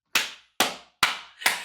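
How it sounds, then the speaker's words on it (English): Four loud, sharp hand claps ring out close by in an even rhythm, each a crisp smack that trails off quickly into silence, with no voices. "I have such a loud clap"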